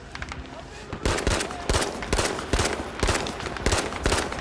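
P08 Carbine fire in a video game: sharp, loud gunshots ring out in an uneven series of about six bursts, each snapping over a steady background din.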